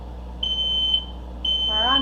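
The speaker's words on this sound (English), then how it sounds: "we've got a smoke alarm" A sensitive kitchen smoke alarm mounted high on a ceiling sounds two loud, piercing electronic beeps in quick succession, with a voice starting up faintly under the second one.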